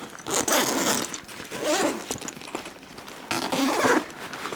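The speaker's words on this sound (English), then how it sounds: "A lot of zippers." Zippers on an AER Travel Pack 3 travel backpack are pulled open and shut in three bursts of close, loud rasping, with short quieter gaps between them.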